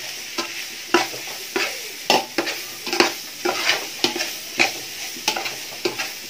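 Chicken fried rice is stir-fried Kerala style in a hot pan, a spatula scraping and tossing in quick repeated strokes roughly every half second over a soft, steady sizzle, close up with no talking.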